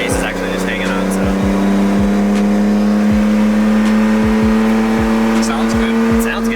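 BMW E36 engine revving hard during a street drifting session, a loud, sustained high-pitched drone with steady harmonics, close and continuous, with voices underneath.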